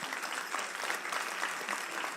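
Audience applause at the National Science and Maths Quiz 2020 final in Ghana, a brief burst of dense, even clapping from a crowd, close and lively without a break.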